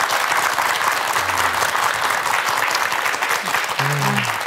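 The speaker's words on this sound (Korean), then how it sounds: "다시 한번 감사의 박수 보내주시기 바랍니다." Sustained audience applause fills a Korean TV morning talk-show studio after a psychiatrist's lecture, dense and steady throughout, with a few brief voices surfacing faintly beneath the clapping.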